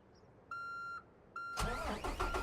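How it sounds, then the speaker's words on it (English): A heavy truck in American Truck Simulator stalls while climbing a hill with a big load: two steady warning beeps, then a loud, rough burst of engine noise that rumbles on to the end. "Oh, I killed our engine."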